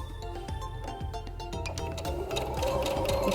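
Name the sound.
sewing machine stitching a safety seam around quilting fabric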